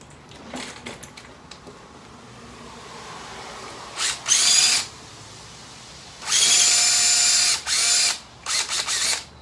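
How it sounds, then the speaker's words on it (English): An electric drill whirs in several bursts, a couple short and two longer runs, with quiet clicks and handling noises in between. "I'm going to drill some holes"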